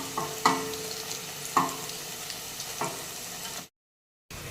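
Poha vadas deep frying in hot oil: a steady close sizzle with a few sharp scraping knocks of a utensil against the pan, then a brief drop to silence near the end.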